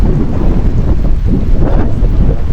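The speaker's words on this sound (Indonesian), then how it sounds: "Cuacanya seperti ini, hujan, angin sangat kencang, badai." Loud, heavy storm wind with rain on Mount Pancaniti roars continuously against the microphone, a dense, rumbling stormy blast without pause.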